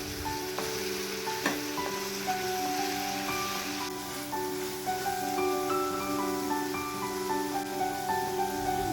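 Ginger and garlic paste sizzling steadily in a frying pan of hot oil with onions while cooking a fish curry gravy, a continuous close crackle with occasional clinks of a utensil against the pan.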